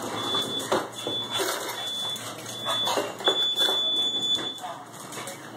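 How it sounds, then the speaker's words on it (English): A smoke alarm beeps in repeated short high tones, steady and fairly loud through the clip, with dog whimpers and faint movement in a home underneath. "Turn off the alarm."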